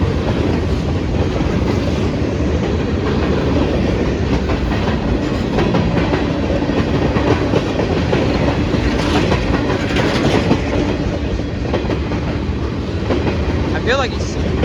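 CSX and Norfolk Southern freight trains pass close by in a meet, producing a loud, continuous rumble and rhythmic clickety-clack of wheels over rail joints, with a faint squeal near the end.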